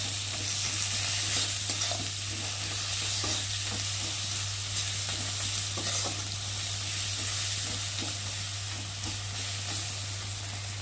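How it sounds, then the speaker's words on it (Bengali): Spices with turmeric, cumin powder and tomato sizzle and fry steadily in a pan, with occasional stirring scrapes and a constant low hum underneath. "চলো ততক্ষণ মশলাটা একটু ভাজা ভাজা হোক"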